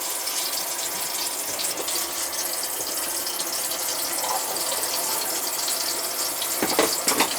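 Steady broadband hiss of running water pouring into a kitchen sink drain on old plumbing, tested for leaks, continuous and fairly close, with a few brief clatters near the end.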